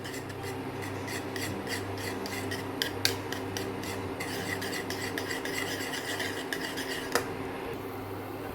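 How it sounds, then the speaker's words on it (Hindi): Ghee stirred continuously in a pan on an induction cooktop: a steady scraping, rubbing rasp of spoon against metal with occasional light clinks, close and even throughout, no talking. "इस तरह से लगातार इसे चलाते रहिए एक 2-3 मिनट के लिए"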